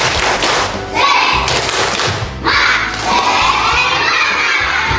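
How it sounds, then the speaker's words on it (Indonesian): Schoolchildren in a classroom perform the tepuk semangat clapping chant, loud shouted voices mixed with rhythmic claps and thumps, close by and energetic, rising in bursts throughout. "Tepuk semangat."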